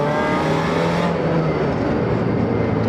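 A supercharged 1.6L Mazda Miata engine revs loudly, with a high whine riding over the engine roar before the sound eases after about a second.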